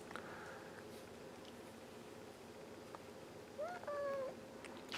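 A pet cat meows once, faintly and close, over a quiet indoor background.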